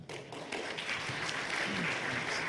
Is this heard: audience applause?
yes